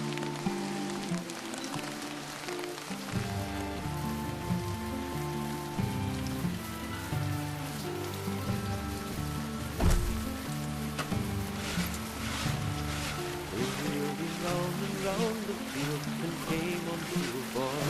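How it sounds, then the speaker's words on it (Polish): Steady rain patters on a surface beneath layered musical tones in the strategy game Stronghold 3, with a brief thud near the middle and no voices. "Znów pada deszcz, panie."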